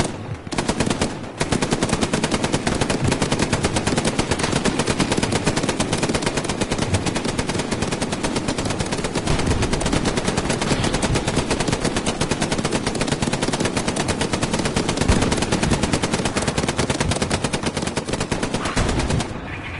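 Sustained machine-gun fire from a video game, a dense continuous stream of rapid shots that stays loud almost throughout, with only a brief break near the start and no voices over it.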